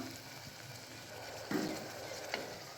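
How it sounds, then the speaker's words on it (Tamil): A ground paste of tomato, chili, ginger and garlic is stirred in a hot frying pan for tomato rice, with a soft steady sizzle, a few scrapes of the spoon and a light clink at the end. "நம்ம அரைச்சி வச்சுருந்து விழுது நம்ம சேர்த்து நம்ம கலந்து விட்டுருக்கோம்"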